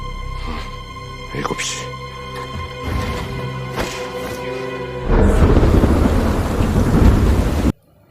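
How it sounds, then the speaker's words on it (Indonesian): Rain pours down heavily, its hiss swelling louder partway through, with rumbles of thunder and a voice heard early on before it cuts off. "Di malam hari, hujan pun datang dan John Woo mengumpulkan air untuk persedia"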